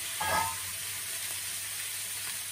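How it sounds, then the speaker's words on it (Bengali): Fish frying in a pan, giving a continuous close, bright sizzle that holds steady throughout with a faint stir near the start. "এই মাছটা ভাজা করে দিই"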